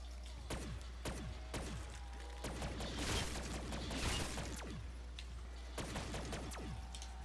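Shotgun blasts from Black Ops 3 Zombies ring out as a string of sharp, booming shots with mechanical reload clicks between them, over a constant low game hum.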